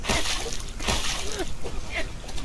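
Splashing and sloshing water in the survival video game Green Hell, broadband washes of splatter recurring every second or so, loud and continuous with game ambience and voices underneath.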